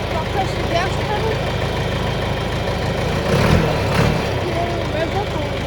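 A backhoe engine with a broken throttle rumbles steadily up close, swelling briefly as the gas pedal is pressed and revving only a little before settling back to idle.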